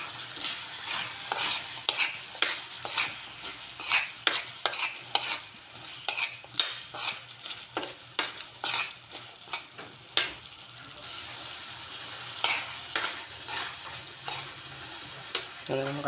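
Mountain snails in their shells cooking down in vinegar in a pan, stirred in repeated rhythmic strokes that bring sharp clattering scrapes over a soft sizzle, close and distinct, pausing briefly before resuming, with no talking.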